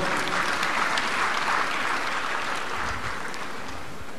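Guests at a 70th birthday celebration break into sustained, thick applause, many hands clapping at once in a steady wash that eases slightly toward the end.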